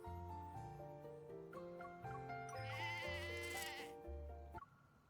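Video-game sheep bleat in a short close sequence of wavering calls lasting about five seconds, with layered tonal game music or effects beneath them.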